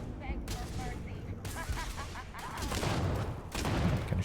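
Gunfire in the Starfield video game, with sharp bursts of shots and impacts rattling amid game effects, fairly close and building toward the end.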